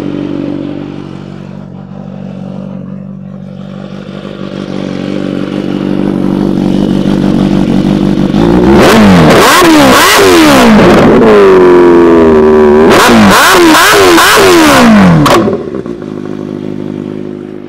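A Kawasaki Ninja H2 motorcycle engine idles low, then is revved hard in several sharp rising bursts, a pause, and another run of throttle blips before settling back.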